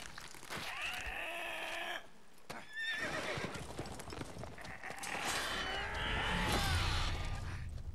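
A horse in The Witcher 3 video game whinnies loudly several times, with clip-clopping hooves beneath, a brief quieter gap midway, then more neighing and hoofbeats building toward the end.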